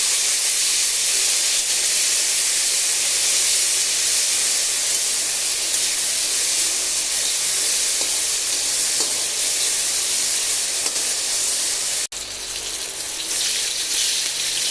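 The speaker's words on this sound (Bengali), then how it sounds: "আলুগুলি হলদি লবণ দিয়ে ভেজে নেব।" Potato pieces tossed with turmeric and salt fry in hot oil, giving a steady, loud, close hiss and sizzle that runs unbroken with one brief dip near the end.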